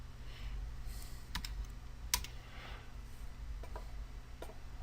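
Light, sparse keystrokes tap on a computer keyboard during coding work, a few distinct clicks of copy-and-paste shortcuts over a steady low hum, with no one speaking.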